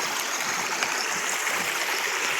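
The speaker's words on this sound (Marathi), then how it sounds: "त्या साईडला तिकडं खडखड पाणी वाहत आहे मित्रांनो पहा खडकावरून" Water rushes and babbles steadily over rocks nearby, a continuous bright flowing sound with no voices.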